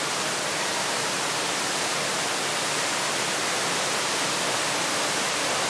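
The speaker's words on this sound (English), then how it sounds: "it might get a little loud in here because of the waterfall" Indoor waterfall inside an aquarium building, a steady loud broadband rush of falling water that fills the space without pause, no voices over it.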